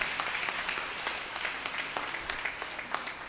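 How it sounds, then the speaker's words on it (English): Continuous crowd applause for priests at a basilica ceremony on a feast day, a thick, even clatter of many hands heard from a moderate distance, with occasional louder claps standing out. "Please give them a loud round of applause"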